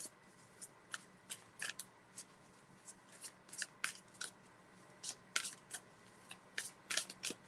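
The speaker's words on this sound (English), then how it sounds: "Got to make sure I shuffle really well" Crisp riffling of tarot cards being shuffled, a steady run of sharp flutters and slaps close by, with no talking.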